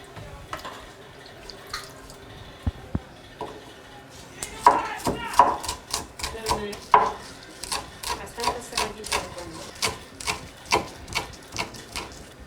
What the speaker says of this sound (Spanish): Aquí estoy picando el chirarán y la chillangua.